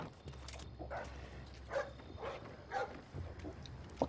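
A guard dog in Splinter Cell: Blacklist barks several times in short, irregular bursts, moderately near, over a low ambient background.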